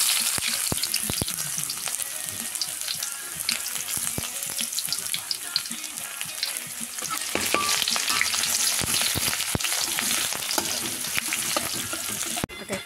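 Ginger, onion and garlic sautéing in oil in a pan, a dense, loud crackling sizzle running throughout with frequent spoon scrapes and clicks from stirring, close up and with no talking.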